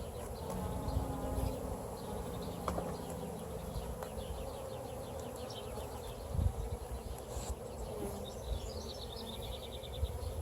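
Honeybees buzz continuously around an open hive as frames are handled, a quiet, dense drone with faint scattered knocks and rustles, and no talking.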